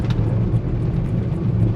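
An Omega Seiki M1KA 1.0 electric truck accelerates, a continuous low drone and whir with faint rhythmic rattles, fairly loud and alone with no voices.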